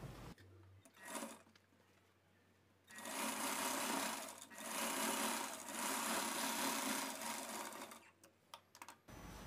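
Sewing machine top-stitching the side joint of a blouse, running in a short burst, then a long steady whir from about three seconds to nine, close and loud, with brief pauses in the stitching.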